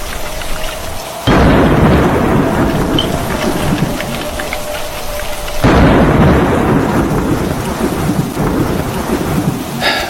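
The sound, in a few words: heavy rain with thunder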